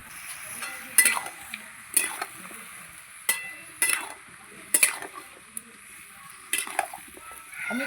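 Winter spinach with a katla fish head is stirred in a kadai, giving scattered scraping clinks of a spatula against the metal pan over a faint low simmer, close and clear, with no talk.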